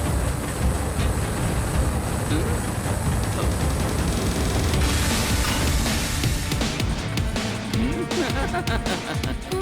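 A cartoon train rumbles loudly and continuously along the track, with a dense clattering roar throughout.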